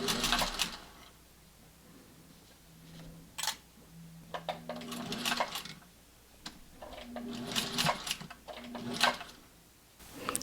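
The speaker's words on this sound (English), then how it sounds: "I backstitch a little bit to make sure it's secure, and then continue." A sewing machine stitches a reversible fabric face mask seam, backstitching in short whirring bursts separated by pauses, with light clicks and handling of fabric between runs.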